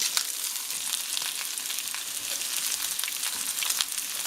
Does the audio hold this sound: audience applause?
no